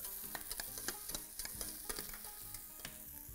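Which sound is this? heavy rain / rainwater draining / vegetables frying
vegetables frying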